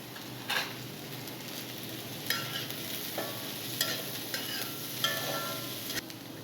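Green beans sizzle and hiss in a hot pan while being stir-fried for vegetable fried rice, restaurant street-food style, with a steady frying crackle and repeated scraping stirs of a spatula, close up.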